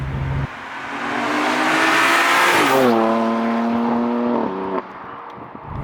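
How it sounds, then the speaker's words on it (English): BMW F87 M2 Competition with full bolt-on modifications pulls hard through second, third and fourth gears, engine note climbing loud and steady with sharp drops at each upshift, heard from inside the car. "Pulling from second gear, third gear, fourth gear."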